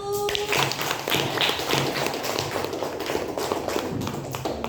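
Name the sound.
classroom applause for group 1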